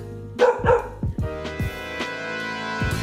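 A puppy yips and barks in a quick run of short, high, close bursts, several sharp calls at the start and then fainter yelps trailing off.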